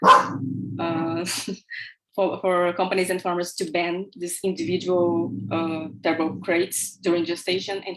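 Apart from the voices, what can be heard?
dog barking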